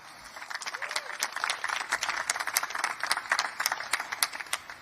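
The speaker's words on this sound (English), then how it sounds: "So round of applause for that." Steady applause from a crowd at a Pro Motocross preseason press conference in Pala, California, many hands clapping in a dense, continuous patter at moderate loudness, with no voices on top.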